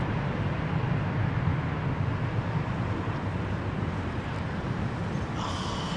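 Airliners arriving to land at Heathrow in low-pressure conditions give off a steady, broad, rushing roar of wing vortex and engine noise. It stays loud and constant throughout, with no talk over it.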